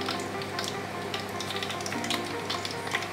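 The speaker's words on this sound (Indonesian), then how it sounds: "Kita aduk-aduk terus." Rice flour and wheat flour batter being stirred continuously for weci gimbal, a steady wet swishing and scraping with a sizzling, fry-like texture, close and fairly loud throughout with no talking.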